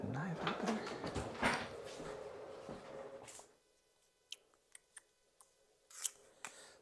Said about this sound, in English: I'm going to add the yeast. I need to cut it open first.